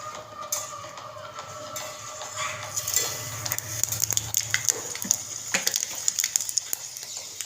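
Panch phoron spices dropped into hot fish oil set up a steady sizzle and crackle with occasional stirring clinks, close and moderately loud in a home kitchen.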